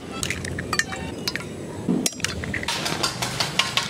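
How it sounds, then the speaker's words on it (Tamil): Egg is stirred into marinated chicken pieces in a bowl, giving wet squishing and sloshing sounds with sharp clinks of a utensil against the bowl. The sounds are close and irregular, with no talking. "முட்டை வச்சு ஊற்றி நல்லா மிக்ஸ் பண்ணிக்கலாம்"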